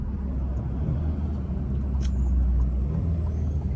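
A low, continuous rumble from an Alfa Romeo car's engine holds steady and fairly loud throughout, with no voices over it.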